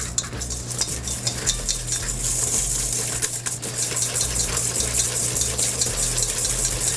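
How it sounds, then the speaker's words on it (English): Egg yolks and sugar whisked together in a bowl for berry gelato, a busy continuous scraping and clicking heard up close over a steady low background hum. "Just going to whisk those together."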